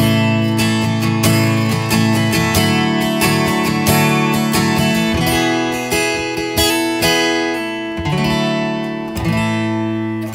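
Acoustic guitar strummed and picked through a TC Helicon VoiceLive Play with body resonance switched on, giving loud, full, ringing chords with rhythmic strums over about ten seconds.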